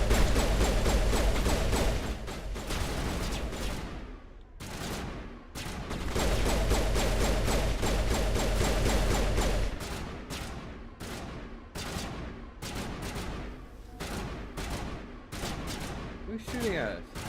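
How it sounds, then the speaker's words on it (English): Mass Effect gunfire, sustained loud bursts of rapid shots that break into scattered single shots, with voices talking over the fighting. "Who's shooting at us?"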